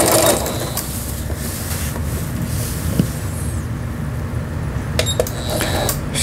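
A Juki HZL-85 home sewing machine runs steadily through overlock and quilting stitches, its dense mechanical whir close and continuous, with a few brief clicks near the end.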